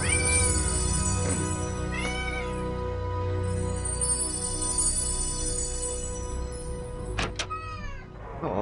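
A cat meows several times in the Quest for Glory 5 video game, short rising cries over a steady game music bed, with a sharper pair of meows near the end.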